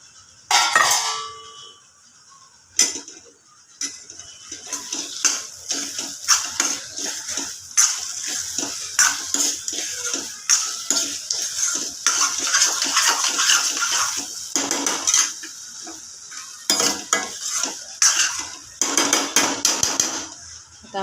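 Turmeric-and-salt marinated prawns are tipped into masala in a cooking pot for prawn biryani, with repeated metallic clinks and knocks of a utensil against the pot over a bright, steady sizzle.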